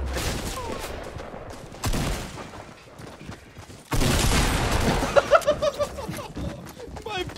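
Gunfire in the video game Fortnite: rapid bursts of shots and a rattling fusillade, partly masked by a person talking over the game sounds.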